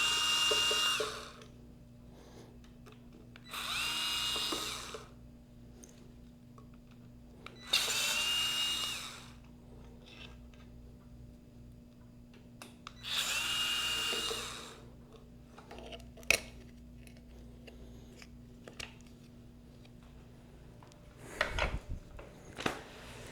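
A power drill backing screws out of an e-bike compartment, four separate whirring bursts of a few seconds each with quiet gaps between, followed by small handling clatter, close and without talk.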